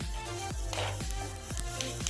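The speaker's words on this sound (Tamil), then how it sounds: "இதுக்கப்புறம் நான் 1 ஸ்பூன் சோம்பு போடுறேன்." A spoonful of fennel seeds sizzles in hot oil for a garlic chicken curry, a soft steady frying hiss with a few faint stirring scrapes, quiet and close.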